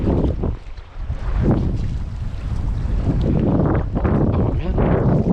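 Strong wind ripping across the shore of Lake Alpine, California, buffeting the microphone in loud, rumbling gusts with water lapping underneath, a near continuous roar that swells and dips.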